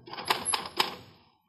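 A typewriter in a quiet room: three distinct, crisp keystrokes about a quarter second apart, close and clear, with no other sound.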